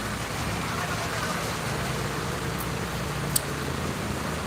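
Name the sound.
rain falling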